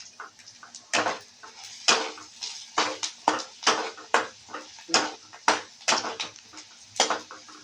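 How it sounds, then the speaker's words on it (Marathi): Chilli and turmeric stirred in a hot pan, a spoon scraping and clinking against the metal in a steady series of sharp, close strikes over a soft background hiss. "आता याला जरा परतून घेणार आहे."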